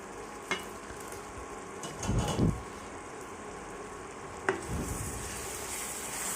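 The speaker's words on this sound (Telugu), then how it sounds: "పాలు మొత్తం దగ్గర పడే వరకు ఎగరబెట్టుకోవాలండి" Bottle gourd curry with milk bubbling and simmering in a pan, a steady soft sizzle with a few brief stirring scrapes and clinks, close and alone with no talk.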